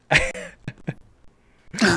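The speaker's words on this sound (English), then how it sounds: "Let me just cough." A person coughs and clears their throat in a few short, close bursts separated by brief pauses, with a final louder rasping clear at the end.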